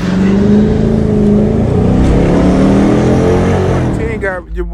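Car engine revving through an exhaust fitted with resonators and tips, loud and close, a few seconds of rising and held revs before dropping away near the end.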